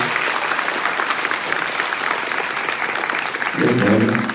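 Steady audience applause for an international speaker at an event, continuous and fairly loud, with a voice briefly rising over the clapping near the end.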